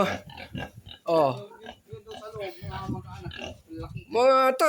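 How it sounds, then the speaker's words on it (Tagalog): Pigs in a pen on a Philippine farm give repeated grunting oinks and squeals in short bursts, close by, while someone talks over them. "Ito po ay ang kanyang baboy."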